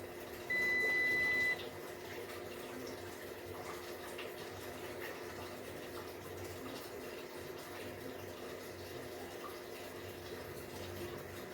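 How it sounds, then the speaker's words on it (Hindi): A washing machine fills with water, a steady soft hiss and hum running throughout at low level, preceded by a brief electronic beep near the start. "जैसे जैसे मशीन में पानी भरना चालू है"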